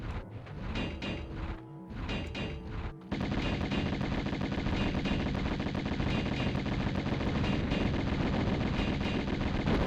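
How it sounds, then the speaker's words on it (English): Enemies in Tomb Raider open fire with heavy automatic gunfire. Short bursts come first, then a sustained, loud, continuous barrage of shots with no talking. "Oh, they are shooting at me."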